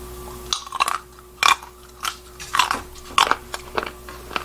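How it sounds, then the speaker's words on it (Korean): Crisp bites and crunchy chewing of sweet raw chestnuts, halved and eaten close to the microphone, come in about eight separate bursts spaced through a quiet room with a faint steady hum. "생밤 ASMR을 한번 들려드리겠습니다"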